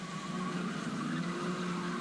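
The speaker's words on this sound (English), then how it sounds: "Listen to the tyres squeal as they stream through here." Touring car tyres squealing through the Castrol esses at Calder Park during the 1985 Australian Touring Car Championship, a sustained tonal screech with engine roar underneath, heard from a distance and steady throughout.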